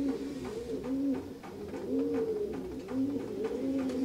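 Pigeons coo inside a loft in a steady, repeating pattern of soft, rolling throaty phrases, close and continuous, with no voices.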